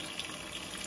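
A washing machine starting its wash cycle on a wool blanket, with water filling the drum as a steady, close hiss and gurgle throughout the short moment.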